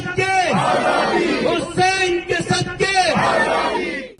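Protesters at a rally outside Reading Town Hall chant slogans against abuses in Kashmir, a loud crowd of voices shouting in rhythmic bursts with brief pauses between lines.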